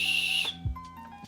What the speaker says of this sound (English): Very loud whistle.